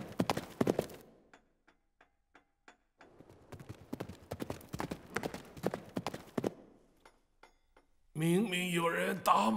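Hoofbeats of approaching horses and riders in a Chinese historical drama, a quick irregular clatter of clip-clops in two bursts separated by a pause, followed by someone speaking at the end.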